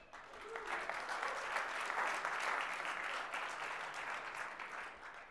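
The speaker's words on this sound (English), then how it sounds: "You got better applause than I did" A crowd claps steadily for several seconds, a sustained round of applause heard from within the room.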